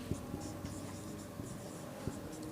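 Pen scratching steadily across paper while working through a trigonometry problem, a continuous close scribbling texture with a few sharper taps as strokes begin, no talking.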